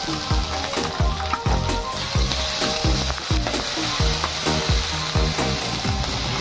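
Crushed mustard seeds, ginger, green chillies and curry leaves fry loudly in hot oil, a dense close crackle and sizzle with rhythmic scraping strokes of a spoon against the pan throughout, with no talking.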